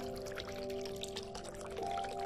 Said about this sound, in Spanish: El sonido del agua te indica que hay una pequeña cascada cerca.